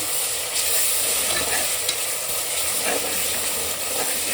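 Two spoonfuls of ginger frying in a pan for country chicken curry, a constant hissing sizzle with occasional soft scrapes of stirring, close-up and without talk.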